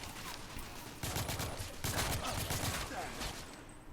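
Gunfire from The Order: 1886, a dense stretch of rapid shots and bursts in a firefight with loud impacts in two heavier surges, continuous and close.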